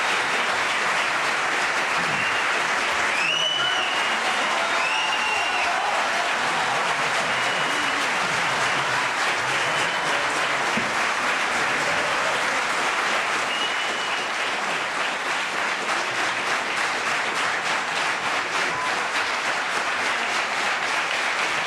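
A large crowd at a political event welcomes Isabel Díaz Ayuso, President of the Community of Madrid, with loud, sustained applause lasting over twenty seconds, dense and continuous, with faint shouts or whistles briefly rising near the start.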